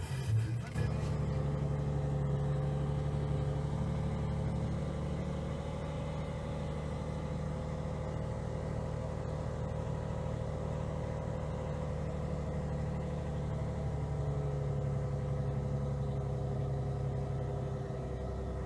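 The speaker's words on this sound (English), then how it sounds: "So let us start the vehicle and listen to the RPM while the engine starts." Toyota Vitz engine running at a steady idle after starting, a continuous close hum with faint tonal whine and no voices over it.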